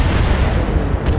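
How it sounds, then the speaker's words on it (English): Mech weapons unload a full salvo in the Battletech video game, a dense, loud rumble of overlapping booms and blasts that rolls on without a break for just over a second. "Firing a full salvo."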